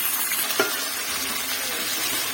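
Vegetables sautéing in hot oil in a pan give a steady, soft sizzle throughout, with one brief stir or scrape midway and no talking.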